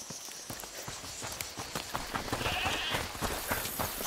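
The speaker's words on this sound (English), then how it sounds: "Is that the goat he talked about?" Sheep-like bleats from a goat in A Plague Tale: Requiem, set over a busy game soundscape with hoof-like clip-clop steps and ambient noise, moderately loud and close.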